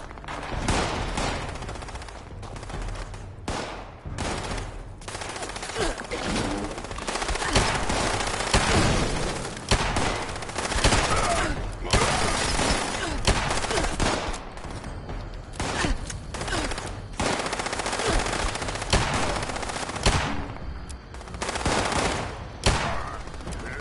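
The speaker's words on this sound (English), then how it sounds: "Shooting him in the head didn't do a whole lot of damage." Dense, continuous automatic gunfire in the video game Fallout 76, rapid bursts overlapping with booming shots at close range throughout.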